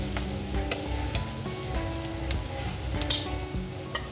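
Chicken goes into a hot frying pan and sizzles loudly and steadily up close, with scraping stir sounds and a few clinks over the constant crackle.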